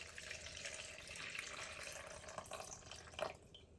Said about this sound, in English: We're going to go for about 400 mils of water, which averages about 400 grams